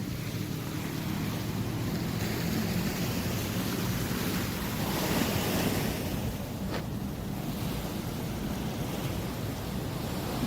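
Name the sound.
sea waves at the shore in Rio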